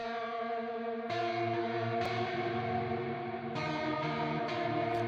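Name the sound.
clean electric guitar with tape echo, reverb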